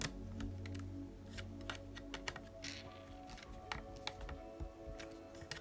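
Small screws are tightened on a Blockhead Motors HotShot II roll cage, with a quiet run of close, irregular clicks and ticks from the tool and plastic parts.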